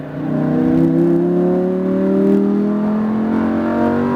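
A Lamborghini Huracan accelerates hard on a track at SpeedVegas, its engine note climbing steadily in pitch for about four seconds, loud and close with no voices.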